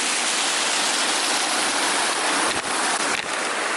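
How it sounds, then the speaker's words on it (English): A waterfall during a wild swimming outing pours with a loud, steady broadband rush of falling water, heard close up and continuous, with a couple of brief knocks near the end. "Waterfall number 2."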